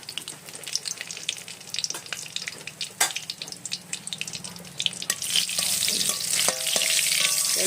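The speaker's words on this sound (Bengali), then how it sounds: "আমি এই ফোড়নে দেওয়ার জন্য তেজপাতা এদিকে জিরে দিয়ে দিলাম শুকনো লঙ্কা" Bay leaf, cumin and dry red chilli tempering in hot oil crackle and pop with scattered sharp ticks and stirring scrapes, swelling into a loud steady hiss of frying toward the end.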